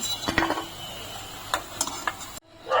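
Lentil fritters frying in hot oil, lifted out of the pan with a metal utensil while making mochar ghonto: a steady sizzle with several sharp scraping clinks, then a brief pause and a fresh burst of sizzling.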